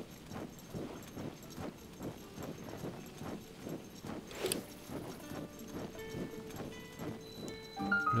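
Horse hooves clip-clop in Zelda: Tears of the Kingdom, a steady rhythmic trot of soft, fairly quiet hoofbeats, with a bright chime and game music tones emerging toward the end.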